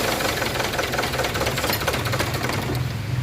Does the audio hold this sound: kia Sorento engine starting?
yes